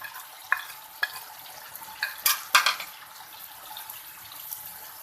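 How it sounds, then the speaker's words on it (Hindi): Kaleji being stirred into a yogurt and spice gravy in a pan, with a gentle sizzle and a few soft scraping clinks from the spoon, one louder cluster midway, close by and alone. "अब हम इसको चलाएंगे।"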